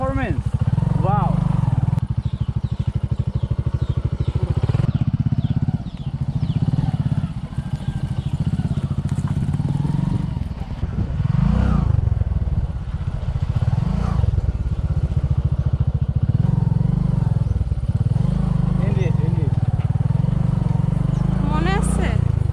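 An adventure motorcycle runs along a road on St. Martin's Island, with a steady, loud low engine drone throughout as someone talks over it close to the microphone.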